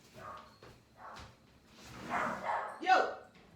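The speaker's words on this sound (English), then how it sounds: "Is he barking at the cat?" A dog barks a few times on a porch during a squirrel encounter, with the barks rising toward the end and a person talking over them nearby.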